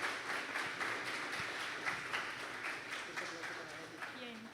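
Applause from a church congregation for a group of children who have just sung, a steady broadband patter of clapping held at moderate loudness across the whole stretch with a faint murmur underneath.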